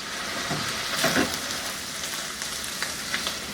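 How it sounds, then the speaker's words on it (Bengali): Carrots and button mushrooms fry in a pan for yaki udon, a steady close sizzle with a brief louder crackle burst near the middle and occasional stirring clicks, no talking. "গাজর যেগুলো একটু দেরিতে সিদ্ধ হয় সেগুলো আগে আগে দিচ্ছি আর একটু বাটন মাশরুম আপনারা যে কোনো মাশরুম দিতে পারেন এইটা এর সাথে একটু ভেজে নিন"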